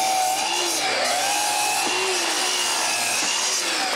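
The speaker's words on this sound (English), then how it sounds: "I have to cut all the wood for that." A hand saw cuts wood for homemade dominoes in a workshop, with continuous close rasping strokes, rhythmic back-and-forth pulls and rising pitch sweeps as the blade bites.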